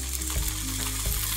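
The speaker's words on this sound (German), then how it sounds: "Die Rehmedaillons kommen in die Pfanne." Venison medallions searing in a pan of hot oil, a dense continuous sizzle with a couple of soft thumps as the meat settles.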